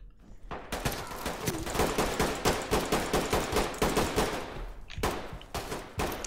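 Heavy gunfire fills a hospital barricaded-suspect mission in the tactical shooter Ready or Not. Dense automatic bursts and rapid shots run almost continuously for several seconds after a brief quiet start.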